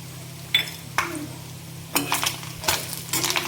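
A spoon scrapes and clinks against a pan while fish egg fry with chilli powder and garam masala is stirred, in several short bursts with soft sizzling and quiet gaps between them.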